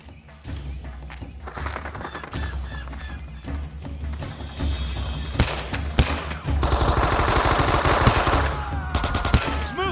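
Rifle and machine gun fire in the Vietnam War shooter Men of Valor, a dense, loud, continuous battle din of rapid bursts and single shots that builds through the stretch, with no speech.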